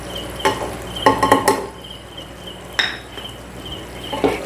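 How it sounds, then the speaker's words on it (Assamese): Spices including coriander powder, garam masala and meat masala fry in a pan for chicken curry, with intermittent scraping and clinking of a stirring utensil over a soft sizzle. "এতিয়া মছলাখিনি দি পুনৰ ভালদৰে ভাজি ল'ম"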